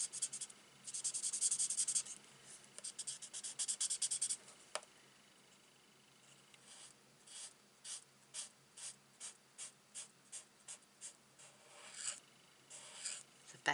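Felt-tip markers with worn nibs colour in a small card, a quiet close scratching that starts in fast bursts, then settles into evenly spaced short strokes.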